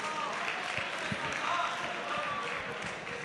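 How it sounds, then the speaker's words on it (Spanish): Clapping from the audience at a university Tuna music-group award ceremony, a sustained, fairly soft patter of many hands heard from a distance, with a few louder individual claps. "un fuerte aplauso"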